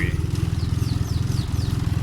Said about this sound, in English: So for the most part, it's idling pretty low.